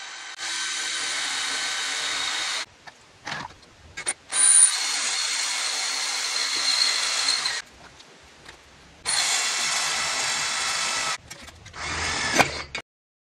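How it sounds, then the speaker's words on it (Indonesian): A Yukido 13mm cordless drill whirs in several long bursts, stopping and restarting, with a grinding mechanical tone as a 5 mm bit works into a wetted iron pipe; short quiet gaps between runs. "Percobaan selanjutnya pada pipa besi, menggunakan mode drill, mata bor 5 mm"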